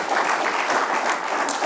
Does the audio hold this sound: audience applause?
yes